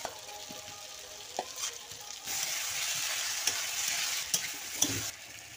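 Potatoes and papaya fry in masala in a pan, a soft sizzle with intermittent scraping and tapping of a spoon as the mix is stirred, quiet at first and then a fuller hiss.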